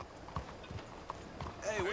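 Horse hooves clip-clop on a road in Red Dead Redemption 2, a few soft, irregular steps at low level, with faint voices mixed in.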